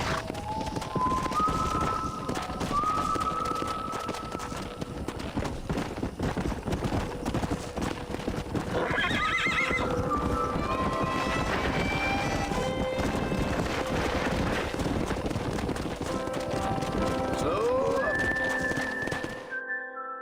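In Red Dead Redemption, steady galloping hooves pound throughout, with several shrill horse whinnies rising over them partway through and near the end.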